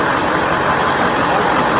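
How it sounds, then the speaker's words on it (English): A car engine idles at a traffic stop with a steady, loud, low rumble that runs unbroken from start to finish. "the conversation is a bit difficult to follow due to the engine noise"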